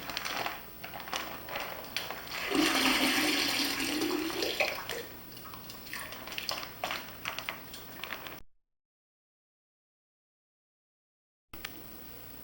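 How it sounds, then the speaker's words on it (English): Cold water pours steadily into a six-gallon primary fermenter for a home winemaking kit, a continuous close rushing splash that swells louder midway and then thins out before a brief silence. "we're going to add cold water up until the 6 gallon mark of our primary fermenter"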